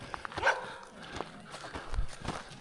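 A dog gives a few short barks and yips nearby on a Colorado backcountry trail during an adventure motorcycle ride, with rustling and movement around it.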